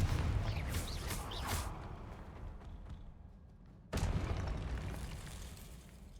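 A Confringo explosive spell cast in Hogwarts Legacy, a loud sudden boom-like burst that cuts in after a quieter stretch, following an earlier burst of crackling blasts.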